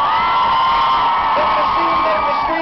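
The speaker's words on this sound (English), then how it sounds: "for singing there, for screaming there, for clapping your hands." Festival crowd at a set at Hurricane Festival 2014, cheering, whooping and screaming in a dense, sustained roar with high shrill voices riding on top.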